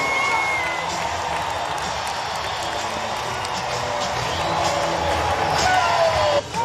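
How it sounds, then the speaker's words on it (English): A large crowd roars and cheers at a women's pro basketball game in an arena after a three-pointer. The noise is loud and sustained, with whoops on top, and stays high the whole time. "this crowd being sent into a frenzy"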